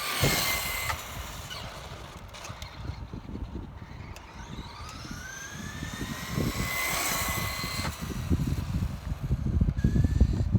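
A Traxxas Slash 2WD brushed RC truck with optional gearing runs at top speed on a NiMH pack, its high electric motor whine rising and falling in pitch as it passes back and forth at a distance, steady and moderately loud.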